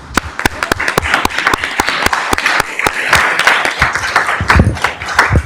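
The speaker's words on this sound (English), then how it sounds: "Let's give them a warm round of applause." A school district board meeting audience claps in a warm round of applause, with sharp individual claps standing out close by over a steady clatter from the room.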